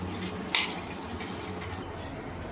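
Pumpkin fritters fry softly in a pan, a low, faint sizzle with a sharp utensil clink as they are turned over.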